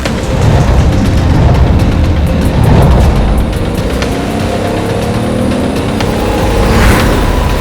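A turbocharged car engine roars loud and close in a continuous, rumbling drone, rising slightly in pitch midway and swelling again near the end.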